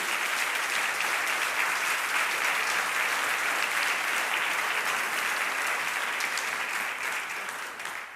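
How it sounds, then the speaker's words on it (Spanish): A congregation at a church service on prayer breaks into sustained, dense applause, loud and steady throughout, easing off slightly at the very end. "Dele un fuerte aplauso al Señor por ese ministerio."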